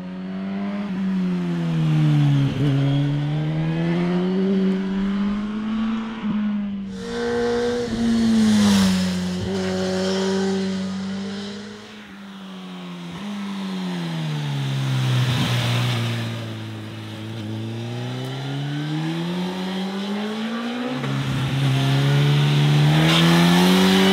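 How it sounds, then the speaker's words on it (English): A Suzuki K5 car engine revs up and down in long sweeping pulls, loud and close throughout, the pitch climbing and falling repeatedly with a sharper burst midway and a hard climb at the end. "the K5 engine from Suzuki"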